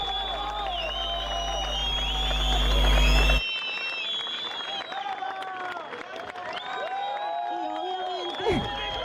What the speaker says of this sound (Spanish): Aplausos gigantes.